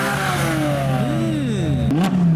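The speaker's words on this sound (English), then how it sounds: "Audi RS6 is just revving on his own in the background." An Audi RS6 at an outdoor car show revs its engine, rising and falling engine tones that climb and dip, fairly loud against a steady background drone.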